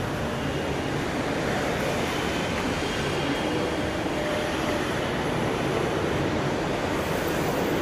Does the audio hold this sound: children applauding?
no